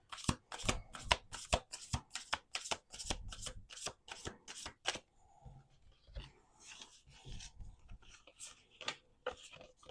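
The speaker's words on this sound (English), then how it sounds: "So this is like an oracle deck, but they do have like tarot cards in here" An oracle deck with tarot cards mixed in is shuffled by hand close up in quick riffling bursts, then slower, softer card handling with occasional taps and breathing.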